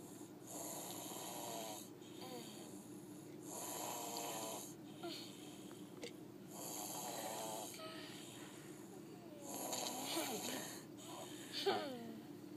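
A sleeping person snores in slow, regular cycles, each drawn-out rasping inhale followed by a quieter pause, close to the microphone, with a brief louder snort near the end.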